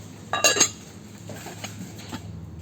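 A small lidded mini ceramic pot clinks sharply a few times up close, followed by softer taps and rattles as it is handled.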